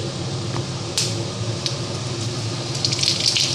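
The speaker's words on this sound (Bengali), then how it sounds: "আমার তেলটা গরম হয়ে গেছে, আমি এখন এখানে গোটা গরম মশলা আর সাদা জিরা চৌবাসে দিয়ে দিচ্ছি।" Whole garam masala and white cumin dropped into hot oil give a steady, close frying hiss scattered with small crackles and pops, with no voices.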